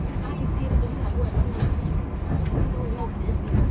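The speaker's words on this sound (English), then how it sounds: "we've got an Amtrak train heading for New York, too, on the right" An Amtrak train heading for New York passes on a parallel track beside a moving SEPTA regional rail train, a steady low rumble and rolling rail noise filling the background.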